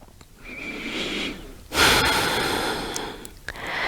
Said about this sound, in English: keep breathing in and out through the nose